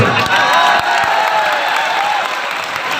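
A crowd claps at a Hindi comedy poetry gathering, a kavi sammelan. The applause forms a dense, steady wash of hand claps that holds level for about three seconds, with faint voices mixed underneath.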